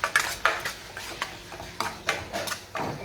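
A spoon scrapes and clinks rhythmically against a pan while stirring a thick cashew gravy over a low flame, with quick repeated metallic taps close up.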